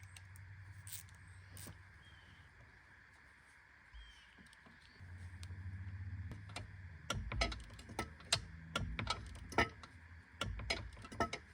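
A cordless battery ratchet tightens a bolt on the track of a tracked grading machine outdoors: a low steady hum, then a run of sharp, close clicks and short bursts in uneven clusters over the last few seconds.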